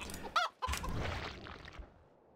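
Chickens in Warcraft 3 Reforged give a couple of short honking clucks, followed by a brief burst of game noise that fades away, fairly faint overall.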